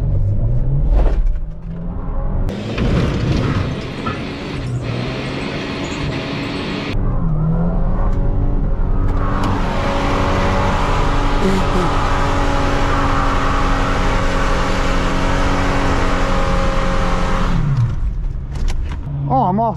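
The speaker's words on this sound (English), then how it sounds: "Doing a burnout though." A Ford truck with a 6.9 IDI diesel engine revs hard through a burnout, its loud rumbling roar rising and holding steady close by, with people talking over it.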